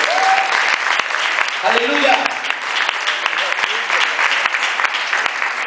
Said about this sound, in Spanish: Entonces dan un fuerte aplauso a Jesús.